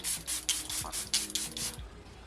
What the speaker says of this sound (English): I'm gonna go in with the Charlotte Tilbury Airbrush Flawless Setting Spray